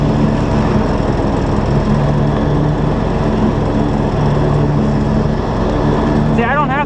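A John Deere lawn mower mowing a field under load, its engine droning loud and steady from close by throughout, with someone talking over it.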